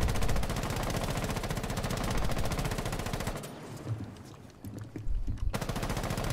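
An R4C rifle with extended barrel and angled grip fires in Rainbow Six Siege, a loud, fast, evenly spaced automatic stream that breaks off briefly before resuming in short bursts.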